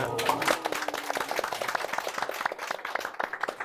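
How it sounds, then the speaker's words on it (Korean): Light applause from a small audience at a Korean book forum author event, a scattering of distinct claps after a columnist is congratulated, with room noise and some speech over the start. "박수."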